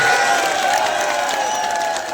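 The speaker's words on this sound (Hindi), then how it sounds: "एक बार जोरदार तालियां दे दीजिए दोस्तों" A large crowd at a gram rozgar sevak sit-in protest at Eco Garden, Lucknow, breaks into sustained, loud clapping that holds steady for a couple of seconds alongside a droning public-address hum.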